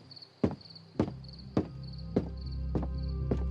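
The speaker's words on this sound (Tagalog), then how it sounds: "Diretso lang ang paglalakad naming magtita, Miss Ligaya." Slow footsteps walk along a dark, quiet path at night, six evenly spaced steps sounding close and distinct against a steady background of chirping crickets.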